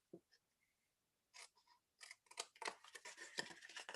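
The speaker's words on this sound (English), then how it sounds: "I'm going to cut out these corners" Scissors snip through the corners of paper card during a crafting session, several quiet close cuts and rustles, sparse at first and then quicker in a busy cluster.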